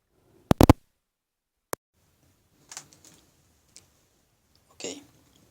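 Plastic casing of an Acer Iconia B1-A71 tablet being pressed shut, giving a quick double snap followed by a single sharp click, then several softer scattered clicks and rustles, close up and quiet with no talk.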